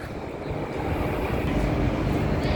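Transperth A-series electric train at a Perth station platform, a steady broadband rumble of the train passing close by that builds slightly over a couple of seconds, with no talk over it.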